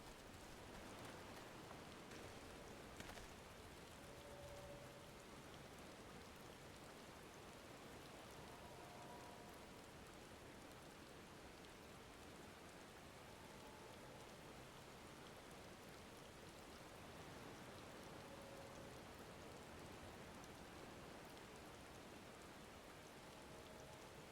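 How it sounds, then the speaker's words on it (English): Steady, faint rain falls for the whole stretch as an even, continuous hiss, with a few soft tonal blips in the distance and no voices. "It's a rainy day."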